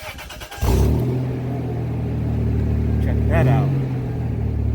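A Toyota Tacoma pickup fitted with a new catalytic converter cranks and catches, then settles into a loud, steady, droning idle close by, with a short spoken comment over it.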